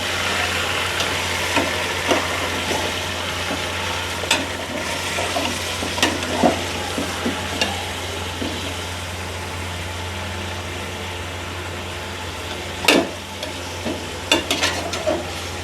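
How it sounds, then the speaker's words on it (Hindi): Meat frying steadily in a pan with garlic and ginger for nihari, a continuous sizzle with occasional stirring scrapes and clinks, close up and fairly loud. "अच्छी तरह से इस गोश्त को लहसुन अदरक के साथ हमने फ्राई करना है"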